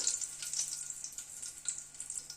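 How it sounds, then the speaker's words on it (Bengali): Dry red chili and a bay leaf tempering in hot oil for a cabbage curry, giving a steady close crackling sizzle with small popping bursts throughout and no voices. "একটা শুকনো লঙ্কা ফোড়ন দিলাম, একটা তেজপাতা ফোড়নে দিলাম"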